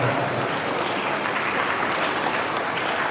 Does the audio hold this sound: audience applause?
yes